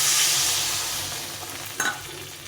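A potato and tomato curry with hot water just added bubbles and hisses in the pot, a soft, steady sizzle that fades slightly, broken by one small clink.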